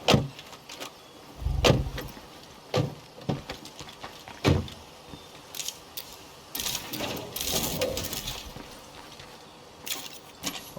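Vehicle door and entry sounds from the State of Decay 2 video game: a series of sharp clunks and thuds with mechanical rattles and jingling in between, loud and close, with no voices.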